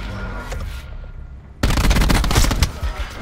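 Heavy automatic gunfire in a Call of Duty: Black Ops 4 competitive match, loud, dense, sustained bursts that cut in abruptly after a quieter stretch of game ambience.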